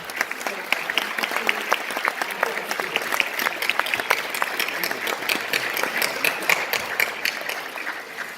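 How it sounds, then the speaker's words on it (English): Sustained applause from an audience at a college nursing pinning ceremony, steady dense clapping filling the room without a break, with faint voices mixed in. "I think we should do another round of applause for family,"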